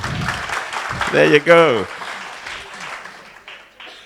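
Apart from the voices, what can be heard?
audience clapping at award event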